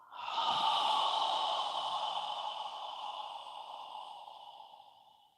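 Long exhale during yoga practice, a close, steady breathy rush that starts strongly and slowly fades over about five seconds, heard alone.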